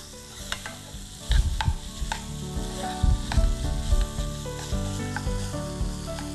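Paneer bhurji is stirred in a hot pan, with continuous close sizzling broken by several scraping strokes of a spoon against the pan and no talking.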